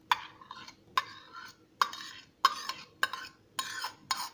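A spoon stirs eggless banana pancake batter made with atta, yogurt and milk in a bowl, producing sharp scraping clinks in a steady rhythm of roughly seven strokes, close and clear with no speech.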